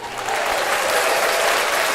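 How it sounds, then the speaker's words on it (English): A soundboard applause effect plays through a streamer's setup, a brief, dense, steady burst of clapping and crowd noise, loud and even with no gaps. "You guys can hear my soundboard clapping."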